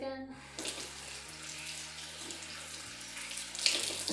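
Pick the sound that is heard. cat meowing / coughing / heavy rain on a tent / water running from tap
water running from tap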